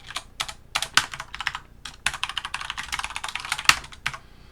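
Quick bursts of keystrokes on a computer keyboard while writing code in vim, irregular clusters of crisp, close clicks separated by short pauses.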